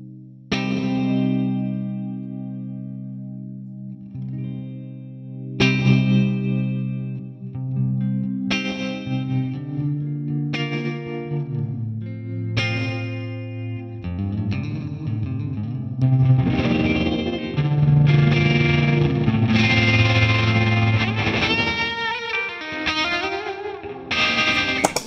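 Electric guitar played through Collision Devices effect pedals for a post-rock pedalboard, with shimmer switched off and reverb lowered: ringing chords struck every few seconds with long sustain, giving way to denser, brighter layered playing, loud and alone.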